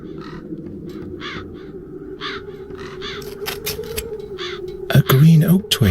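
Crows cawing repeatedly in The Dark Eye: Chains of Satinav, a series of harsh calls over a steady low ambient drone, with a louder burst of sound near the end.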